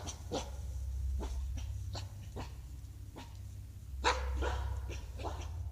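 Dogs in a pack bark and yip in short sharp bursts outdoors near a trail camera. Scattered calls spread over several seconds above a low background hum, one bark louder than the rest.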